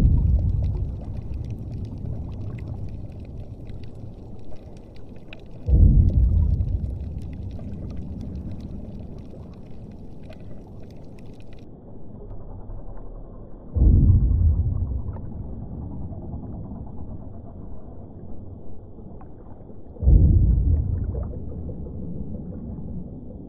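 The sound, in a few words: underwater sound of an oil platform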